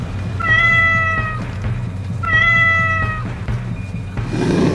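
A cat meows twice in an animated Hindi horror story, two long, clear, close calls over a low, steady background rumble, with no talk.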